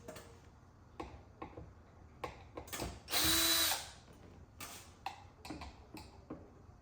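Power drill driving short screws into a surface, heard as several brief whirring bursts with one longer, louder drive in the middle, close by with no talking.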